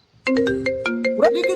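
A short electronic phone ringtone melody plays, a quick series of bright repeated tones, loud and close.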